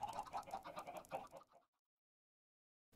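A flock of about 500 chickens clucks, a dense burst of close cackling that stops abruptly after about a second and a half, leaving silence.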